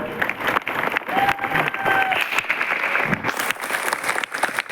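Audience applause at a business meeting, a steady wash of clapping and crowd noise lasting several seconds, with a brief whistle-like tone and some voices mixed in.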